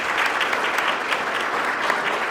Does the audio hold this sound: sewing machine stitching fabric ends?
no